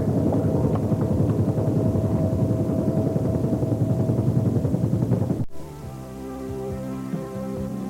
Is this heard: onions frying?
no